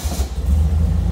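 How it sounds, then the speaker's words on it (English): A Porsche 356 Speedster replica, brand new with low mileage and a 344 ring and pinion transmission, fires up: its engine catches and settles into a steady, close, low rumble. "I'm gonna fire it up, let you hear it start up and running."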